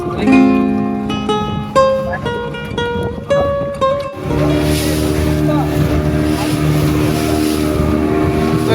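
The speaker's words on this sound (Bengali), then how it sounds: "ভাই এখানে প্রতিনিয়ত স্পিড বোটে করে রাইড দেয় আমাদের মতো পর্যটকদেরকে" A speedboat rides out on the sea off Parki Sea Beach: a few seconds of melodic tones give way to a loud, steady motor drone with rushing water noise, close and continuous.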